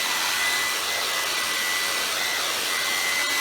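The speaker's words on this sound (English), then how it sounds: "heat your blades up as you normally would with your hair dryer" A hair dryer blowing continuously onto rubber wiper blades to warm them, a loud steady airy whir with a faint high whine running throughout.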